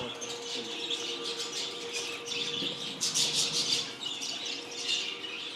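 Small budgerigars chirp and squawk continuously in a breeding aviary bird room, a dense, busy flock chatter with brighter bursts of calls rising and falling throughout.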